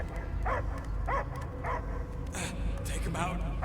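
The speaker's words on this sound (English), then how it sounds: "I hear only barking." Dog barking and yipping in the Marvel's Guardians of the Galaxy video game, several short barks spaced out over a steady low game rumble, with voices and whimper-like sounds in between.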